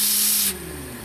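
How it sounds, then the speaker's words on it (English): Steam hisses loudly from a leaking boiler on a running steam engine, a close broadband rush that suddenly drops to a softer hiss halfway through, with a low steady hum beneath. "A little steam coming out of there is good."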